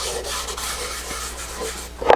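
Rag rubbing an oil and shellac French polish finish onto a wooden toy toolbox, a steady close swishing friction that swells near the end, with no talk.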